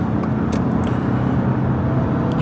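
Constant low rumble of a 2025 Subaru Outback engine with road noise from inside the vehicle, steady and fairly loud with no pauses.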